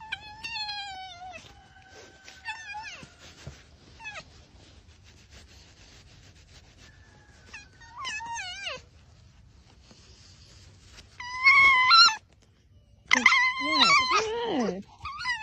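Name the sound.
fox vocalizing while being petted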